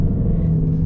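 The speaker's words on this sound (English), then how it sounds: "Just even taking a turn, you hear the engine, and I just love that about this car. It's such a beautiful sounding V8." A 2024 Ford Mustang GT's V8 engine rumbles steadily while the car drives through a turn, a continuous low drone with no voices.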